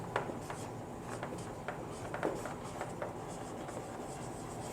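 Hand writing on paper during an accountancy lesson on journal entries: soft scratchy pen strokes come in short irregular bursts, quiet and close, with no talk.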